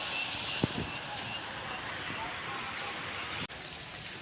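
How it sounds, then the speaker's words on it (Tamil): Rain falls at Veeranam Lake near Kattumannarkoil, a steady broadband wash that continues throughout with a couple of brief bumps, sounding fairly near and even. "வீடியோ எடுத்துகிட்டு இருக்கும்போதே மழை வந்துருச்சு"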